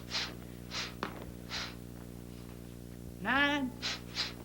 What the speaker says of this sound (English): See how we're breathing through your noses?